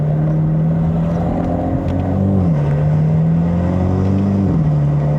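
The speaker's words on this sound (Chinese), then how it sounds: "我们主要是听一下 exhaust 声啊" A turbocharged 2.0-litre N20 four-cylinder in a Stage 2 mapped BMW 220i F22 drones steadily in Sport Plus under load, with a loud, sustained exhaust tone that dips briefly twice, heard from inside the car.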